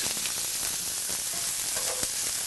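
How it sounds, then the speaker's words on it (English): Onions sautéing in cooking oil in a pan, a steady close sizzle and crackle with occasional light stirring scrapes, continuous and fairly loud with no talking. "My onions now have been sauteing actually for a few minutes."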